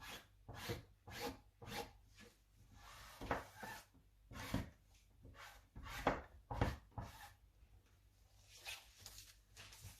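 Scissors cut through fabric for the front of a wrap blouse, with quiet, close rasping snips in irregular bursts over a near-silent background.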